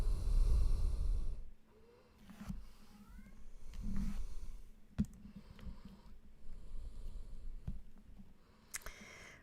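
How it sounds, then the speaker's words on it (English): A pet cat cries and meows out in a hallway, giving a few faint, distant, rising calls under quiet room noise, with occasional clicks and bumps. "Can you hear my cat crying in the background?"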